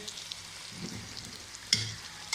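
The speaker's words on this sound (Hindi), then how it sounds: "अब ये सबसे पहले ये अच्छी तरह फ्राई हो जाए।" Potatoes, eggplant and onions fry in a pan with a soft, steady sizzle, broken by a couple of brief stirring scrapes, fairly quiet and close with no talking.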